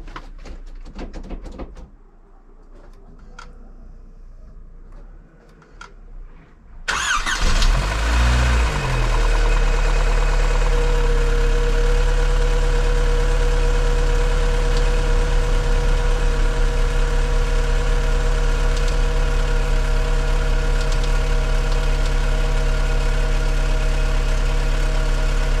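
A freshly rebuilt Skoda Fabia 1.4 MPI petrol engine cranks and fires for its first start after a thread repair, following a few quiet clicks. It then settles into a loud, steady, close idle that runs on evenly with no voices.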